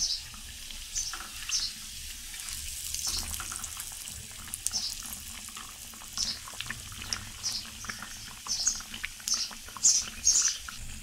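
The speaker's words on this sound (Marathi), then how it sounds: "आणि आता तळायला घेऊया। गॅस मंद ठेवलेला आहे, परतून घेऊया।" Maggi pakoda frying in oil over a low gas flame, a soft steady sizzle with crackling pops that grow louder and more frequent toward the end.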